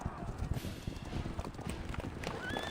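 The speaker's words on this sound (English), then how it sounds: "A rider on a tall horse cuts off the chase." A horse's hooves clip-clop at a gallop in the video game Reverse 1999, rapid rhythmic hoofbeats over a busy background of game music and effects, with a voice speaking.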